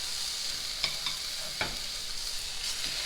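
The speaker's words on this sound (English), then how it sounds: "my 3 pork chops. And brown them 5 minutes on each side." Three pork chops sear in a pan with a steady, even sizzle and a few sharp clicks of handling, close and moderately loud, with no talk.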